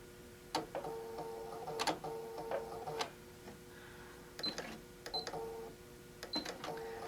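A sewing machine stitching a fabric placemat made from a panel, heard in several short bursts of rapid mechanical whirring separated by brief pauses, close and fairly quiet with no talking.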